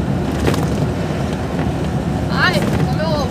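A Volkswagen Kombi van drives along a road with a steady loud rumble and vibrating rattle, mixed with wind buffeting, while people talk inside.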